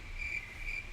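Crickets chirp in steady pulsing trills, a high thin buzz that swells and fades twice over a low background hum, with no voices.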